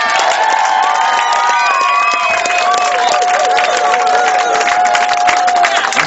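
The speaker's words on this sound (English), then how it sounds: "we'd ask for a huge round of applause" At a speedway riders' presentation evening, an audience claps and cheers steadily for several seconds, dense applause with whoops and shouts filling the room.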